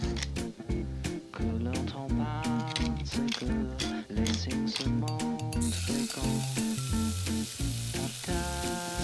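Food fries steadily in hot grapeseed oil in a pan, giving a continuous close sizzle that runs underneath louder background music throughout.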